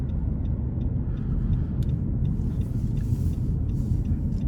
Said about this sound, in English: So not bad acceleration to be a 2-liter naturally aspirated 4-cylinder